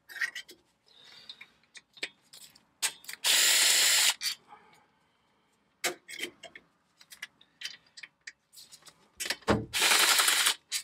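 A ratchet wrench loosening bolts to remove engine valve covers, close rapid clicking bursts alternating with brief pauses and a few longer sustained whirring runs, no talking.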